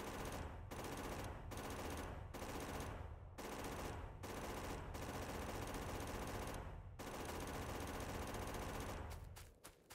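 Continuous automatic gunfire in Factorio, a dense, loud rattling stream. It breaks off in brief gaps every second or so and trails into scattered shots at the end.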